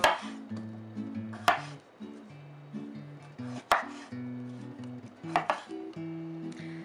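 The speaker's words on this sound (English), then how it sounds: "going to dice my potatoes and carrots." Knife chopping through diced potatoes and carrots on a board, a series of sharp close cuts spaced in an irregular rhythm, loud and alone with no talking.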